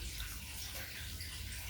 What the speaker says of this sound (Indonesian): air PDAM nya ini langsung isi ke tandon gua